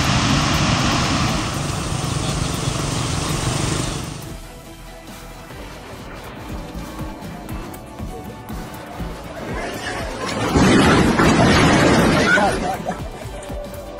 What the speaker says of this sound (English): the tension was palpable as the aircraft executed a low-altitude